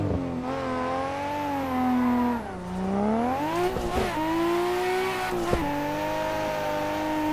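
A drift car on cold tires revs hard through a run, engine pitch climbing and falling in long sweeps with sharp gear-change breaks, loud and steady with no talking.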